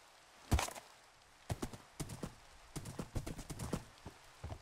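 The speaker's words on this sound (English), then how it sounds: "These horses are incredibly fast." Horses gallop in the Minecraft video game, their hooves clip-clopping in quick irregular clusters of sharp thuds, fairly close and clear, with brief gaps between bursts.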